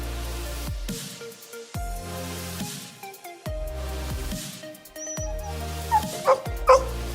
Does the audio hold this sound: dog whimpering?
yes